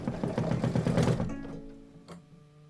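A sewing machine stitches a quilt in a quick, rapid run of close mechanical chatter. It stops after about a second, leaving a faint click and quiet hum.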